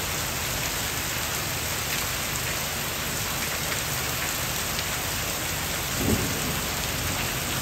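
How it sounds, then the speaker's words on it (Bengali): Steady heavy rain pours down continuously on a village, a dense hiss that stays even throughout, with one brief low rumble near the end. "খুবই সুন্দর বৃষ্টি হচ্ছে"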